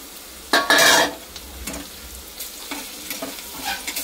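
Poha spices with turmeric frying in hot oil, a loud burst of sizzle early on that settles into a quieter crackle with light stirring scrapes throughout.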